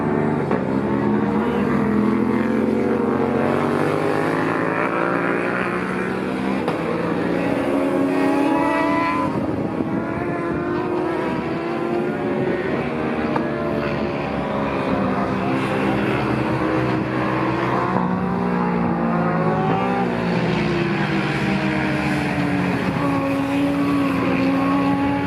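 Several two-stroke racing motorbikes with one four-cylinder bike among them at an amateur motorbike race, a loud, continuous overlapping engine drone with rising and falling revs as the bikes pass close by, no talk.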